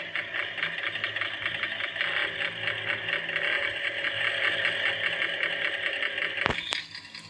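A motorbike engine in a Bengali video game drones steadily and fairly loudly with a rattling mechanical texture, ending in a couple of sharp clicks.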